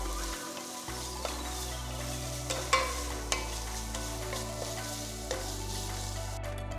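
Chopped small tomatoes stirred and sizzling in a pan while making South Indian chicken soup, a steady fry with soft stirring scrapes and a few spoon clicks against the pan.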